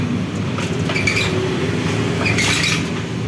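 A Honda Vario 150 scooter with a stiff, binding kick starter is kicked over. Two short mechanical clunking, rattling bursts come about a second and a half apart, close by, with no engine catching.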